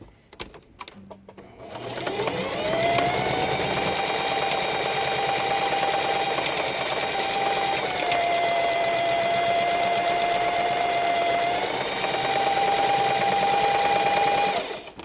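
A sewing machine stitches ribbon for a feather fringe, running as one loud, steady whir for about thirteen seconds, close up and alone.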